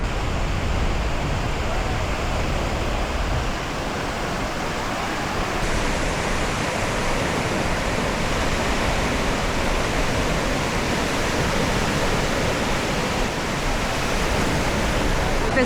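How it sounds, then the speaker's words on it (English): Ocean surf rolls in at a surf beach in Tamraght, Morocco, a continuous broad wash of breaking waves that holds steady and loud throughout, with no clear pauses between sets. "let's watch the waves."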